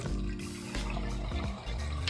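Water gushes steadily from a faucet being flushed after a repair for low water flow, a strong, continuous rush, close by with no talking.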